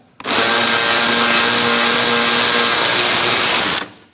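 Power tool, an impact gun or drill, whirring loudly and steadily for about three and a half seconds while removing a front bolt on a 2002-2006 Honda CR-V during coolant reservoir replacement, close and alone, starting and stopping abruptly.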